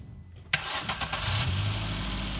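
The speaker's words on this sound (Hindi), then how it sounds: "भाई फाइनली गाड़ी चली।" A Maruti Swift engine cranks and catches after a jump start from a tractor, a sudden loud start followed by a rising rev that settles into a steady close idle.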